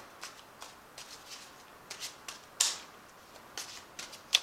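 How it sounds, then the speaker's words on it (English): Angel Tarot cards shuffled and drawn by hand, giving a series of soft, brief papery flicks and slides in an irregular rhythm, with one sharper snap near the middle, close and fairly quiet with no talking. "I'm going to draw 3 cards from the Angel Tarot"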